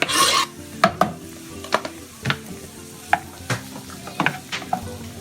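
Chopped pork and onion sizzle steadily in a pan, with a soft frying hiss broken by repeated scraping and stirring strokes and utensil clicks against the pan, close by.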